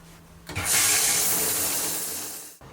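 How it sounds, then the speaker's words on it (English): Cold shower water starts abruptly and runs as a loud, steady hiss and spray close by, holding for about two seconds before cutting off sharply. "take a cold shower for around probably 2 minutes or so"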